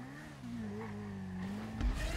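A motorbike engine hums in a video game as the bike is launched into a jump, the tone dipping and rising steadily, ending in a brief thump of landing.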